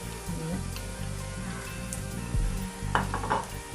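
Oil heating in the middle of a pan before biryani masala powders go in gives a soft, continuous sizzle with light crackles and a few stirring scrapes toward the end.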